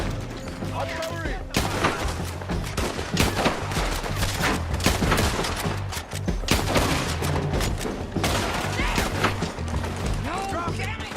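Artillery and gunfire in the video game Red Dead Redemption 2: dense, continuous loud blasts and crackling shots layered over a background score, with voices shouting through the barrage.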